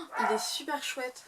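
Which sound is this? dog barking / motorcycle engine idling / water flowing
dog barking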